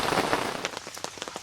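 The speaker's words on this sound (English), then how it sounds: "it has been pouring down, raining" Heavy rain pours down at a campsite in North Georgia, a dense steady patter of drops on a surface, with a few sharper individual drips standing out near the end; fairly quiet, with no voices.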